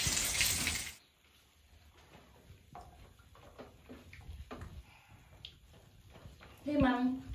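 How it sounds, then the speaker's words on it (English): Tap water runs into a bathtub at home, a soft continuous flow under quiet talk and household sounds, with a brief louder gush near the start. "I'm gonna run the water."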